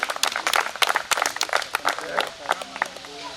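Lively applause from the audience at an office inauguration ceremony, dense irregular clapping filling the room with talk mixed in underneath.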